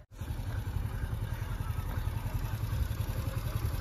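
Motorcycle engine revving steadily as the bike pulls out of a muddy, waterlogged dirt track, close and loud with a continuous throaty chug and clatter, no talking over it.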